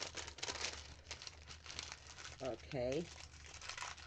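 A padded flat-rate mailing envelope crinkles and rustles close by in short bursts, with a brief spoken word in the middle.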